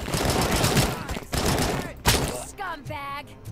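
Rapid bursts of gunfire in RoboCop: Rogue City crackle in dense volleys, broken by brief pauses and a heavy thud, ending in ringing, sweeping electronic tones.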